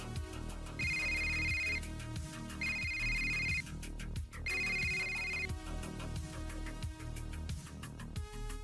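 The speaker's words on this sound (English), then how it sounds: "Nero, you hear your compad ringing as well." A sci-fi compad device rings with a repeating electronic phone ringtone, three bright trilling bursts over a rhythmic, beat-like backing pattern at moderate volume.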